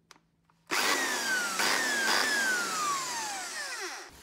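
An electric drill, just repaired after sparking, whirs up sharply after a brief quiet, a loud steady motor whine with a pitch that slowly drifts down before cutting off abruptly.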